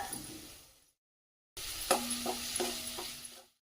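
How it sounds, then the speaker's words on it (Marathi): Chopped onion sautés in oil with curry leaves, crushed ginger, garlic, bay leaves and asafoetida, a soft sizzle broken by a brief silent gap, then light stirring scrapes and faint clinks of a utensil against the pan. "आता कांदा छान असा परतला गेलाय"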